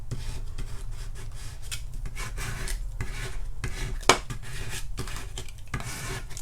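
Scraping and rasping from a Cricut tool rubbing permanent vinyl down onto a surface, continuous back-and-forth strokes with one sharp tap partway through, close and steady.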